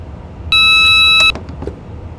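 An in-cab alarm in a Class 390 Pendolino train cab, in Train Simulator 2018, gives one steady electronic high tone lasting under a second, then clicks and faint cab noise follow, with no talking.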